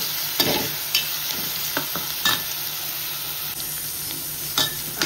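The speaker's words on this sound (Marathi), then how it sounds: "अद्रक लसूण टाकूया आणि व्यवस्थित शिजवून घेऊया स्लो फ्लेमवर।" Ginger and garlic fry on a slow flame for chicken biryani, giving a steady close sizzle with scattered spatula scrapes and taps against the pan.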